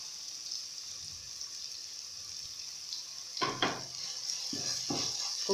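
Ginger sizzles in a hot pan of pilau, a steady frying hiss throughout, joined partway by the scrape and clatter of stirring with a utensil against the pan.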